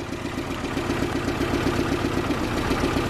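A 1983 Citroën GSA Special Break engine idles close by after repairs, a steady low rhythmic chug with even pulsing and no revving.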